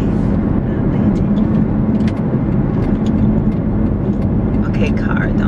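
A car rolls past nearby on a street, its engine and tire rumble steady and fairly loud throughout while a person talks over it.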